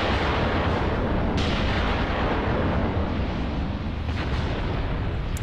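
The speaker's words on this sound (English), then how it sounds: "I think artillery's behind them." Artillery fire as a dense, continuous rumble of distant blasts, loud and unbroken with no single sharp reports standing out.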